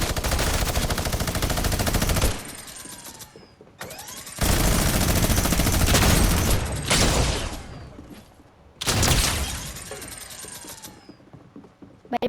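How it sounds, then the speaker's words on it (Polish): A guard shooting at the player in Fortnite, with long bursts of rapid automatic gunfire separated by short pauses, loud and close. "Po co we mnie strażnik strzela?"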